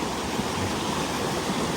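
Yor La Pa waterfall roars as a dense, steady wash of falling water, close and loud, with no talking over it.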